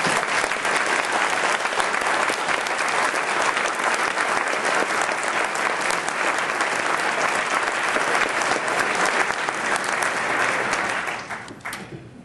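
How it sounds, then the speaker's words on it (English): A crowd at an ACLU of Wisconsin recognition ceremony applauds an award, loud sustained clapping from many hands that holds steady for about eleven seconds before tapering off quickly at the end. "you guys are going to have to applaud really, really loud so she'll be able to hear you"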